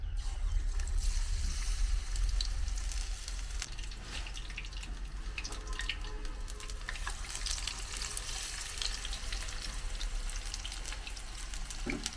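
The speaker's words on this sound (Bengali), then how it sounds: "আর কটা বাকি আছে সেগুলো ছোট মা ভাজছে" Tomato chops frying in hot oil give a continuous dense sizzle and bubbling that stays fairly even throughout, with a low rumble underneath at the start.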